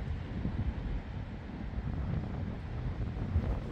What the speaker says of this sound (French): On est suffisamment haut pour avoir des rafales de vent relativement violentes quand même